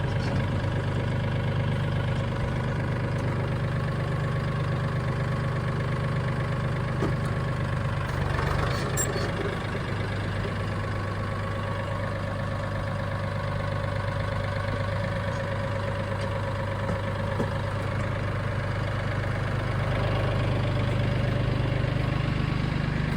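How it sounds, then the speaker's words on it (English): A farm tractor idles steadily nearby during coop cleaning, a constant low engine rumble with a slight knock that holds at even loudness for over twenty seconds, with no voices. "So I'm gonna pull the tractor up a little closer."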